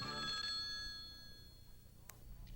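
A telephone bell rings in a TV commercial aired during a 1979 broadcast, its bright repeated trill loud at the start and then fading into a low hum with faint clicks.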